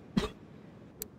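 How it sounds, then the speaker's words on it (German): A single person coughs sharply once, close and fairly loud, then a faint short throat sound follows about a second later against quiet background noise, with no talking. "Leute, ich habe immer noch Husten."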